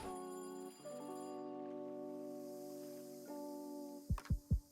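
A telephone rings with a sustained electronic tone that shifts pitch partway through, then ends in a few sharp pulsing bursts, moderately loud and close with no talking.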